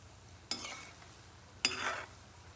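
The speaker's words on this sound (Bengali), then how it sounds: "হালকা আঁচে এগুলো ভাজতে হবে, নাহলে ভিতরটা কাঁচা থেকে যাবে" Banana fritter batter drops into hot oil over low heat, giving two sharp sizzling bursts that fade into a soft crackle, close and fairly quiet, with no talking.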